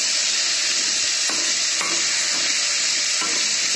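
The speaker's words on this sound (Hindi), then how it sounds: "अच्छे से फ्राई करना है इसे ऑयल में।" Pumpkin pieces fry in hot oil with a dense, loud, continuous sizzle, while a spatula scrapes and stirs at a regular pace. No one speaks.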